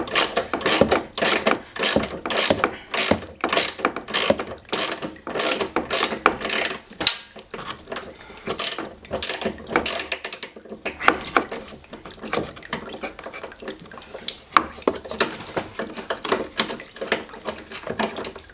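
Ratchet wrench working 10 mm bolts on a Toyota GT86, rapid close clicking bursts with brief pauses between strokes, continuing in uneven runs.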